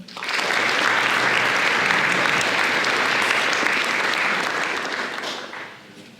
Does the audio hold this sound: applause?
yes